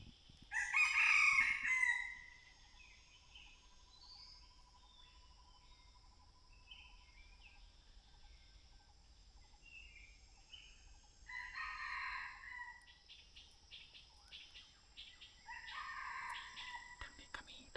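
Wild junglefowl crow repeatedly in mountain forest: one strong, close call at the start, then two fainter, more distant crows later, over a steady background of chirping crickets.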